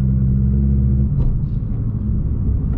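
Car with a straight-piped exhaust and catalyst downpipe, a loud, deep droning rumble heard from inside, holding a steady low note before the pitch shifts slightly and the drone roughens.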